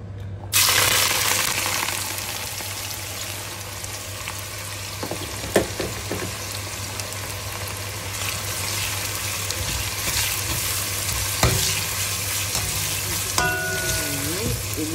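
Onions sauté in a hot pan with a loud, continuous sizzle from start to finish, broken by a few utensil knocks and scrapes and a short whistling tone near the end, with no voices.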